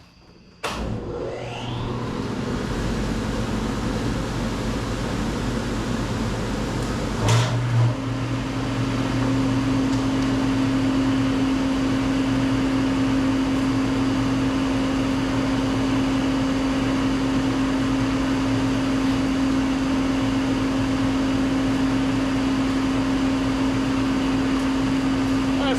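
A vacuum dust collection system on a Grizzly G0454Z planer starts up and runs as a loud, steady roar with a constant hum, continuing unchanged for over twenty seconds.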